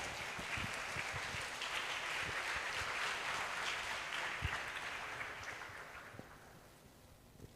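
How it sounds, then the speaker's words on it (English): Seminar audience at a police academy school event applauding steadily and loudly for about seven seconds, a dense wash of clapping that thins slightly toward the end. "applause."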